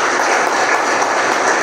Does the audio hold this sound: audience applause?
yes